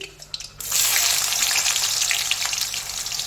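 Onions go into hot oil for a mustard chicken dish and burst into a loud, steady sizzle that holds close and continuous after a brief quieter start.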